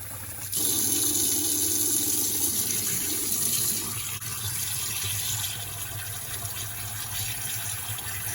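Tap water runs steadily over rice in a container as it is rinsed, a continuous splashing gush that softens a little partway through, with no talking.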